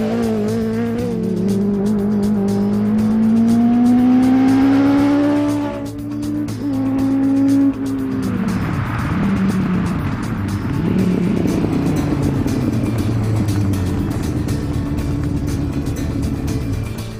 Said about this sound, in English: a superbike engine and gearbox does the job of making this Mini sound and go like nothing else